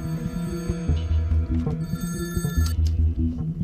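A telephone bell ringing in a sitcom house scene, a loud, insistent electronic trill repeating in short bursts close by, with no speech over it.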